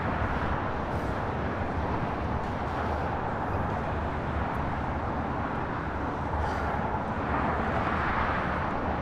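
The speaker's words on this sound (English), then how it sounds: "This is Japan Airlines Flight 69 taking off to Osaka on the 787-9 Dreamliner" Japan Airlines Flight 69, a Boeing 787-9 Dreamliner bound for Osaka, takes off from LAX with a broad, steady engine roar that swells slightly toward the end.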